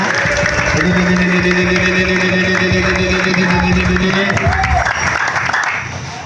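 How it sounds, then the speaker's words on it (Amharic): A church congregation claps and ululates in praise of the Lord, with dense, steady applause and sustained high trilling voices that fill the room before fading slightly at the end. "ሁሉም ሰው ለጌታ እልልታ ጭብጨባ ይገባዋልና"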